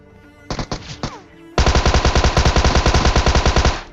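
PUBG Mobile gunfire: a few loud separate shots, a short pause, then a long, steady burst of rapid automatic fire, close and punchy.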